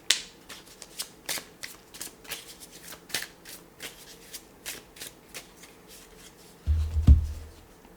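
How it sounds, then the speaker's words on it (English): Angel oracle cards being shuffled by hand, a run of crisp riffling flicks and soft slaps repeating steadily and close up, ending in a louder low thump. "I will draw an angel oracle card to see what angels are around you for this full moon."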